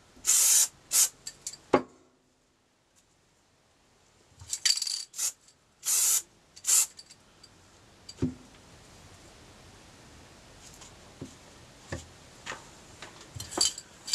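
Aerosol primer spray-painted onto a camera part in short bursts, several sharp hissing sprays in the first seven seconds, then quieter clinks and light knocks of handling afterward.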